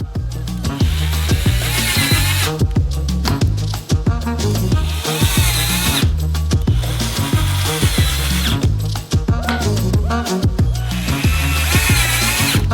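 A power drill drives screws through corner brackets into plywood, whirring loudly in repeated bursts with brief pauses between, up close and with no talk.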